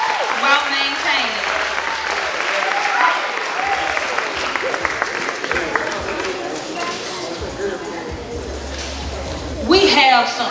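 Applause from a crowd at a high school sports awards night for student athletes, a steady mass of clapping with cheers and voices mixed in, swelling louder near the end.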